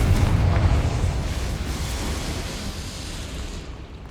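A Confringo fire spell explodes in Hogwarts Legacy, a loud, broad rumbling blast that starts strong and slowly fades over about four seconds, with no talking.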